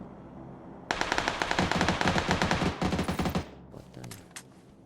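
A JS9 gun fires in a video game: a loud, rapid automatic burst of shots lasting a few seconds, with a brief pause partway through, then stopping abruptly.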